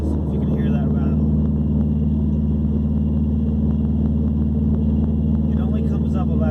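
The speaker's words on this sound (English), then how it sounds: "It's something back there rattling with the exhaust." Saab 9-2X fitted with an aftermarket WRX exhaust, rattling underneath around 2400 RPM: a steady, droning engine and exhaust hum with faint metallic ticks scattered through it.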